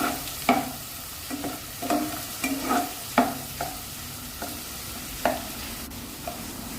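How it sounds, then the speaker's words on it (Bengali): Grated onion frying in a pan, a soft sizzle under a series of distinct scraping and stirring knocks spaced irregularly, close and moderately loud with no voices. "পেঁয়াজটাকে আমি হালকা প্রথম ভাজা করে নেব"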